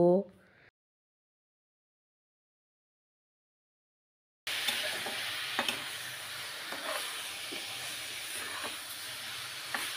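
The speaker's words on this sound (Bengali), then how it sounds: "নেড়েচেড়ে শাকটা আমি ভালো করে ভেজে নিব" Boiled leafy greens being stirred and fried in a hot pan, a steady soft sizzle and hiss with occasional scraping stirs, after a short voice and a stretch of silence.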